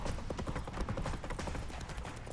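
Roach, Geralt's horse in The Witcher 3, galloping hard, with rapid rhythmic hoofbeats pounding close and loud throughout, unbroken by speech.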